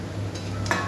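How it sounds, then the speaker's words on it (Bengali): Chunks of potato and taro are stirred with spices in a pan for a Bengali taro curry, giving a couple of soft, brief scraping strokes over a steady low kitchen hum. "ভালো করে নাড়াচাড়া করে মশলার সঙ্গে মিশিয়ে নেবে।"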